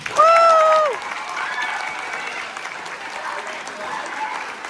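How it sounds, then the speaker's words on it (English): A school spring concert audience applauds the band teacher, a brief sustained tone sounding first, then steady, moderate clapping with light crowd noise continuing to the end. "So one round of applause for Miss Looney."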